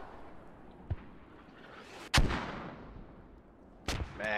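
Mortar rounds impact during a multiplayer shooter match, several heavy booming blasts at irregular intervals, one sharp loud hit followed by a rumbling tail and another burst a couple of seconds later over faint background noise.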